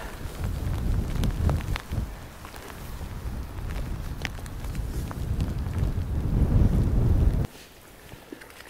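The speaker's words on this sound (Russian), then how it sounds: "Такой сильный ветер." Strong wind gusts buffet the microphone at a lakeside fishing spot, a loud low roar swelling and surging in waves with scattered taps and knocks, then dropping sharply quieter near the end.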